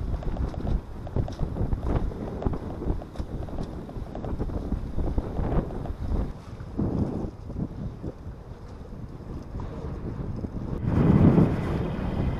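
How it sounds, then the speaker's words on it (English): A sailboat under way on the sea heading into the Hamble River, with steady wind rushing over the microphone and water washing along the hull, a stronger gust swelling near the end. "we're sailing into the Hamble River."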